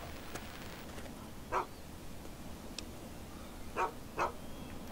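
In Fallout 3, a dog gives sharp, fairly faint barks and yips at irregular intervals, four or five in all, over a low background hum.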